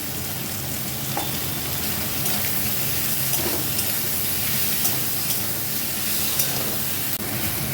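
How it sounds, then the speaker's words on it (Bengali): Potatoes fry with onion, salt and turmeric in a pan for aloo posto, giving a steady, close, full sizzle with faint scraping from stirring throughout. "আলু পেঁয়াজের সঙ্গে ভাজা হয়ে গেছে।"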